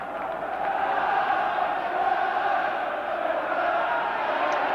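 A football crowd at Upton Park before a 1980 FA Cup tie between West Ham and Aston Villa makes a steady, distant, unbroken roar of massed voices.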